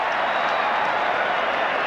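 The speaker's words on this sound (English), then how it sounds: "the cry goes up from the crowd for Australian defence" Big stadium crowd roaring for the Australian defence during a 1991 New Zealand versus Australia rugby league test at Lang Park, a steady dense wash of cheering held at one level throughout.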